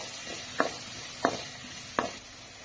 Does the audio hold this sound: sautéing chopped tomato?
yes